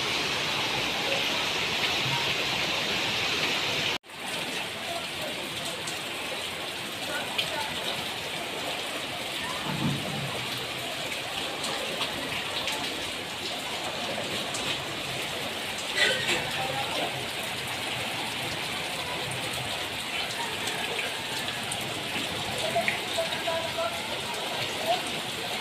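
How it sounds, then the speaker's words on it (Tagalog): Heavy typhoon rain pours steadily by a riverside in Mariveles, Bataan, a loud continuous hiss with occasional splashes, and a voice speaks faintly beneath it. "ang lakas ng ulan, ayun oh"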